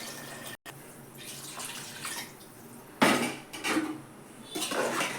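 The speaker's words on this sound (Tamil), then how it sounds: "அரிசி ஊற வச்ச தண்ணி இருக்குது, அதே ஊற்றிடலாம்." Rice-soaking water is poured into a cooking pot, making splashy, watery bursts, with a dull clink of metal pots in between.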